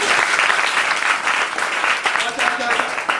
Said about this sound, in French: On applaudit pour PFFG.